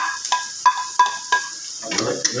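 Ginger goes into a hot pan while pulutan is cooked. Four sharp, regular clinks of a utensil against the pan are followed by a rougher stirring sizzle, close and fairly loud.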